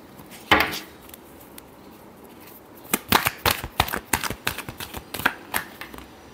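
Tarot cards being shuffled at close range, with one sharp riffle early on followed by a quick run of crisp, rhythmic card snaps and flutters. No one talks.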